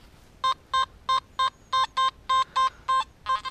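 Metal detector set to ground-search mode gives a run of about a dozen short, electronic tone beeps in a quick, slightly uneven rhythm, loud and close, with no talking.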